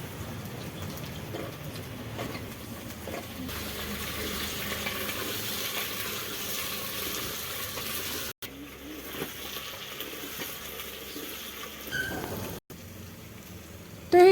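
Onions and garlic frying in oil in a pan while cooking cabbage and potatoes, a steady close sizzle with soft crackling that runs throughout, briefly cutting out twice, with no talking.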